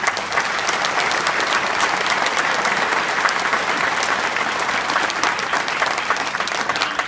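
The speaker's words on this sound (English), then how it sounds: "Big round of applause for all of you." Steady, sustained applause from a sizable crowd at a citizen naturalization ceremony, even and continuous throughout without letting up.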